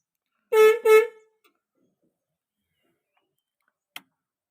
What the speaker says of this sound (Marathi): आणि हे हॉर्न.